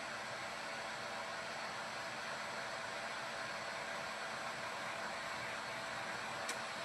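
A hair dryer blows a steady, even rush of air as it dries a surface, running at constant volume throughout with a single faint click near the end.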